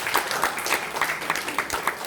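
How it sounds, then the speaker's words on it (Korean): Church congregation at a military chapel's Sunday morning service applauding a young soldier, a short burst of close, steady clapping from a modest crowd, unbroken for about two seconds. "우리 범근 형제한테도 박수 한번 쳐주세요."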